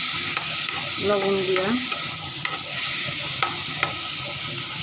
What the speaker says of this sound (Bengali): চিংড়ি মাছগুলি লাল করে ভেজে নেব